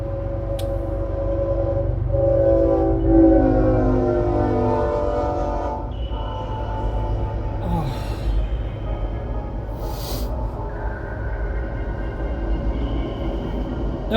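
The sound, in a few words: passing train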